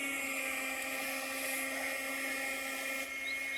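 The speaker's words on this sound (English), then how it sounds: "That one is so special because it's a vacuum." A Kärcher WV 2 Plus cordless window vacuum runs with a steady, high-pitched motor whine and airy suction hiss, close and constant throughout with no pauses.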